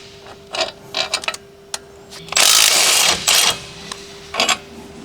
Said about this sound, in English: Using the large 21mm short socket, large short extension bar, and large impact wrench, remove the wheel hub retaining bolts.